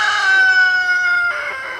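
A rooster crows loud and close among a flock of hens, one long sustained call that breaks near the end, with no talking.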